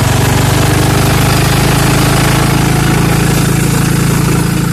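An old 1988 Ranch King L158B riding mower engine runs with the choke partly on, a loud, steady, close-up idling drone with a rapid putter that holds constant throughout.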